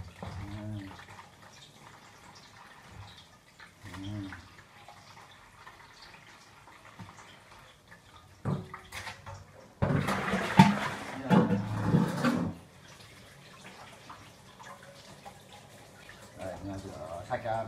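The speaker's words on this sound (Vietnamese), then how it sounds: "Ok, nó rửa sạch tỏi đi nhá, thái ra." Garlic being washed under a running tap in a home kitchen, a brief burst of splashing water lasting a couple of seconds amid quieter kitchen noise and a faint voice.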